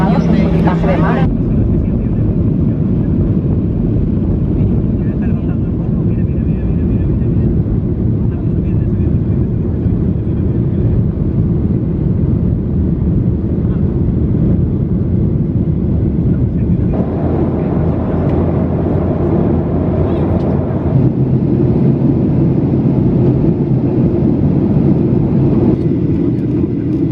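Airplane cabin during landing, a loud steady roar of engines and airflow filling the whole stretch, with the tone shifting partway through and announcements or voices faintly present beneath it.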